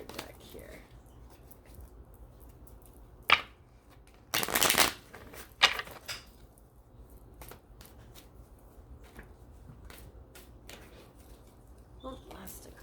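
A deck of tarot cards gets a brief riffle shuffle, with a few sharp card snaps and taps before and after, at close range in a quiet room.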